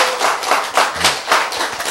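Short burst of audience clapping at a Korean lecture, several quick, close hand claps in an uneven rhythm lasting about two seconds.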